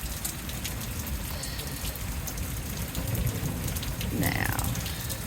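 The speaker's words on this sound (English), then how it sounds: "There you can see how heavy it's raining." Heavy rain pours down during an Alabama storm, a steady dense hiss of drops hitting surfaces nearby, growing slightly louder toward the end, with a brief faint voice.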